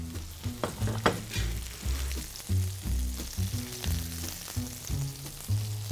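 Parmesan cheese frying in a pan alongside filet mignon, a soft steady sizzle with scraping and clinking of utensils against the pan, fairly quiet and without talk.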